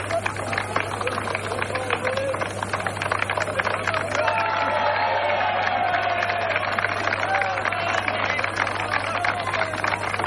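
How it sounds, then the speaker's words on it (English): Racecourse crowd at the 1983 St Leger at Doncaster cheers and applauds after the win, a loud, continuous roar with clapping beneath it and a steady low hum, lasting about ten seconds. "Let's hear the applause."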